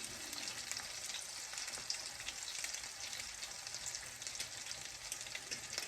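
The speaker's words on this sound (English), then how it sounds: "You're not deep frying them, you're pan frying them." Oil sizzles steadily as salmon croquettes pan-fry, a constant crackling fry with faint pops, close and even throughout.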